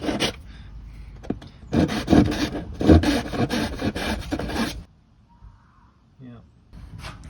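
A wooden loose tenon is trimmed by hand for a drill press stand, a series of rough rasping, scraping strokes in a burst of about three seconds, fairly close, followed by quiet and a few faint knocks.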